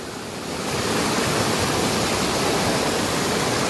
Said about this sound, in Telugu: ఇదిగోండి కల్లు వాటర్ ఫాల్స్ ఫ్లో అయితే ఇక్కడ ఎలా వస్తుంది.